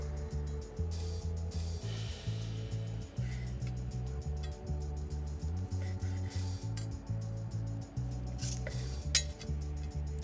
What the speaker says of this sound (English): I'm just gonna make even slices all the way across so that hopefully everybody gets a little piece of skin.